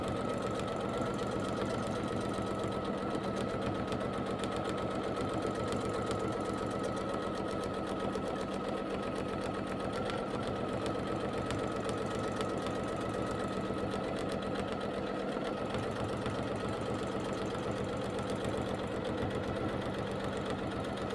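A sewing machine runs steadily during free motion couching quilting, its rapid needle chatter and motor hum continuing evenly for about twenty seconds, close and unaccompanied by talk.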